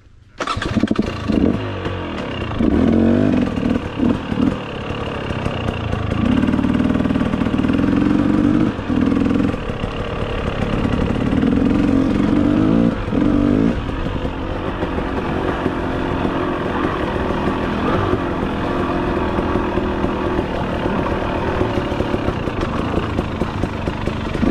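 A 250cc motorcycle starts up and idles loud and close, its engine pulsing through a series of blips and revs before settling into a steady drone as it pulls away.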